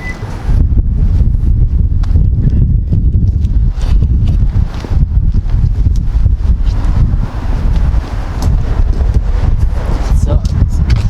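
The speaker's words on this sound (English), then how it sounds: "So, it's super windy in Oklahoma." Strong wind blows outdoors in Oklahoma, roaring and buffeting against the microphone in a constant heavy rumble with gusty bursts throughout.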